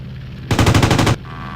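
Aircraft machine guns firing in the Aces High 2 flight combat game: a single loud, rapid burst of roughly a dozen rounds lasting well under a second, close and alone against a steady engine drone.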